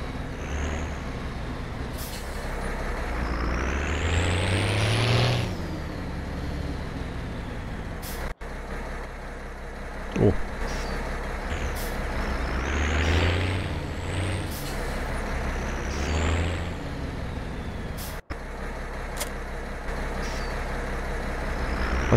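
A farm vehicle driving out to fertilize fields in Farming Simulator 17, with a steady engine drone that rises and falls as it revs, plus occasional sharp hissing air-brake bursts and clicks, continuous and close.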